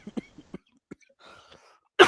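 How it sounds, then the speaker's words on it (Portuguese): A person chokes and coughs in a burst of several sharp, close coughs with a short throat-clearing, then a brief strained breathy noise and a loud sudden cough at the end. "Agora me engasguei, agora não foi nem a tosse."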